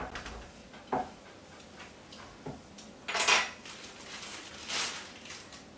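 Metal measuring spoons, one teaspoon and a quarter teaspoon, rattle and clink in a kitchen drawer, with several separate clatters, a louder jangle midway and another near the end, close by and with no talking.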